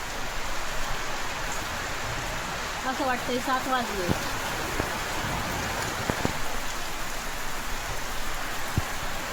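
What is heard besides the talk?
heavy rain falling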